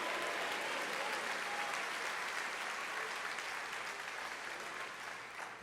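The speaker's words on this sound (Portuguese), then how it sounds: "Aplauda, Senhor." A church congregation breaks into sustained applause during a Portuguese-language sermon, a dense, steady wash of clapping from many hands that fills the space, easing slightly toward the end with no clear speech.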